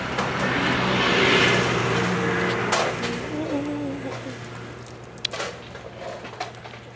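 A car moving along a road in India, its engine and road noise forming a steady rumble that eases off midway, with someone talking over it and a brief knock near the end.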